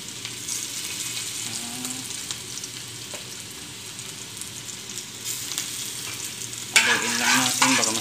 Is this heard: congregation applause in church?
no